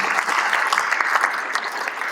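Audience applause for a sponsor at a charity event, a steady dense wash of clapping hands that runs continuously through the moment with no talk over it.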